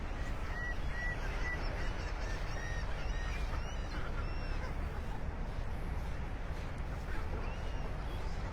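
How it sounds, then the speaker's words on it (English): Many shorebirds on a Florida beach at Delnor-Wiggins in North Naples give repeated goose-like honks, overlapping and moderately near over steady surf and wind. "You can see some birds hanging out there."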